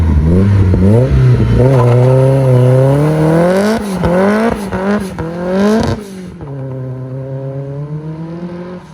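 A turbocharged Mazda MX-5 pulling away, the engine revving hard through several rising gear pulls with clattering and whirring, loud and close, then settling to a lower steady drone near the end; no talk.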